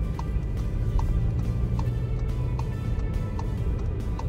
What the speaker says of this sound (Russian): Это звук поворотника.